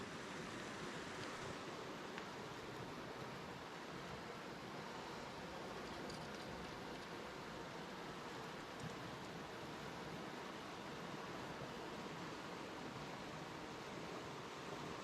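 A waterfall on the river in Cheesman Canyon, a constant broad rushing roar of water, steady and full throughout with no voices over it.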